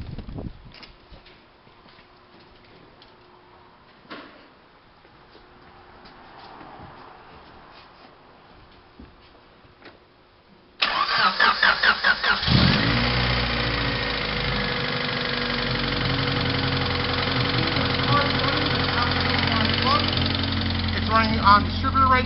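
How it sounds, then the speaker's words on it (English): A Honda car engine running on distributor ignition starts after a quiet stretch with faint handling noises, then turns over and settles into a loud, steady idle with rising revs close by. "Running on distributor right now. The car revs up, no problems."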